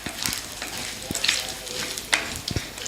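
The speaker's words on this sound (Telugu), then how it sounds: "అలాగే ఎండుమిర్చి వేసుకుంటున్నాను అలాగే కరివేపాకు జస్ట్ ఇది ఒక్క నిమిషం వేగగానే స్టవ్ కట్టేసుకోవాలండి" Dry red chillies and curry leaves fry in hot oil for a coconut chutney tempering, a close, moderate crackling sizzle with a few sharp pops and ticks, no talk.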